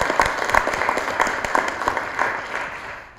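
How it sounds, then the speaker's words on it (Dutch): Audience applause at an open data congress session in Eindhoven, a dense wash of many hands clapping steadily for about three seconds, fairly loud and sustained with no voices over it. "maar eerst nog een applaus voor mevrouw"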